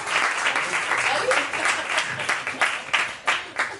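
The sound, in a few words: audience applause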